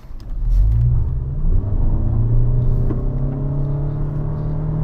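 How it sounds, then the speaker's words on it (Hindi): A 2025 Toyota Camry Hybrid with CVT transmission revs hard while pulling away, a loud, close, steady engine roar rising in pitch and holding strong for several seconds with no talking. "मैं थोड़ा सा रेव करता हूँ गाड़ी का। एक्सेलरेटर रेव किया"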